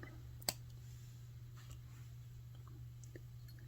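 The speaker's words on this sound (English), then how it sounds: "Take my cutters, cut off my extra wire." Wire cutters snip through thin jewelry wire while making a wire-wrapped necklace with rhinestone heart pendants, giving one sharp, close click followed by a few faint handling ticks over a steady low hum.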